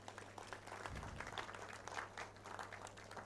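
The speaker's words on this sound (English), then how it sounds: "Let's give a round of applause to ourselves that we will pay." A meeting audience at an annual general meeting claps together in a steady round of applause. The clapping is dense and moderately loud, runs the whole time over a low constant hum, and some voices murmur beneath it.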